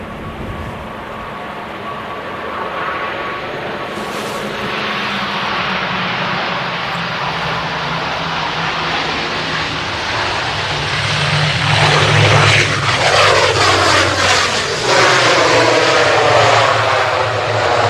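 A fixed-wing airliner arrives on runway 05R at Manchester Airport in the early morning, its engine roar swelling steadily from a distant rumble to a loud, close pass with a rising whine and broad rushing noise.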